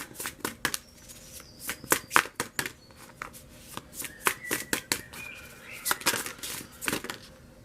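Tarot cards being shuffled by hand at close range, in irregular bursts of crisp riffling and slapping, with short pauses between them and no voice.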